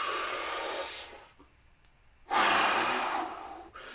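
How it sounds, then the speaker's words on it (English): A person takes a long, loud breath in through the mouth during a guided breathing exercise, a breathy rush that fades to a short silence before another strong airy breath and a quick catch at the end. "Inhale."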